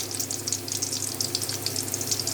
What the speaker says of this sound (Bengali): এখন ডালটা রসুন দিয়ে বাগার দিয়ে ফেলবো।